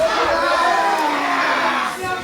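A home crowd at a baseball stadium roars in a dense, loud sustained cheer with shouts and whoops, fading slightly near the end.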